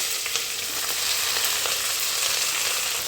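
Onions with spices fry in coconut oil in a pan for a chicken curry, making a dense, steady sizzle close by, with occasional faint stirring scrapes and no voices.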